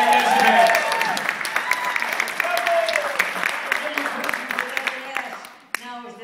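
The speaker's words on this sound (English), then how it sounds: "Let's have another round of applause for Jerry." An indoor audience gives steady, moderately loud applause for an elderly performer, with scattered voices mixed in, thinning and fading out toward the end before a sharp knock.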